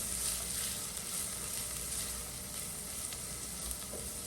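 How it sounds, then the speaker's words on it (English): Half an onion sizzling in a saucepan, a steady close crackling hiss of frying with faint stirring, no talk. "To the saucepan, we're going to add some onion, and this is half of an onion."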